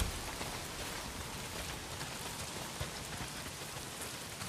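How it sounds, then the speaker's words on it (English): Rain pours steadily in the game Days Gone, a dense, even hiss of drops striking surfaces that stays constant and fairly soft throughout, with no speech. "Well, not if it's pissing down the rain."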